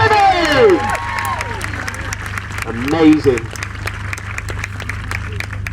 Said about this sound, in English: Big round of applause here for